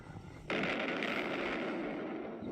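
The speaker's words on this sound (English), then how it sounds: "It sounds as if it's gone altogether now, said Parsley. And bang goes our steak as well" Gas left running on a stove suddenly explodes with a loud, sharp bang, then a sustained roaring, crackling blast that carries on at full strength, with no voices over it.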